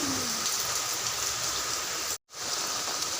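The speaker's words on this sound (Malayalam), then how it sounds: "നല്ല മഴ ഉണ്ട്" Heavy rain falls steadily, a dense continuous hiss of drops on surfaces with a very brief dropout near the end, no voices.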